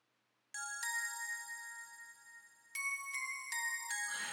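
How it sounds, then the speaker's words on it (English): A bright J-pop bell synth patch from the Synthage 1.4 plugin plays a short melodic phrase of sustained, shimmering bell tones, clean and close, starting after a brief silence. "it is the J-pop bell"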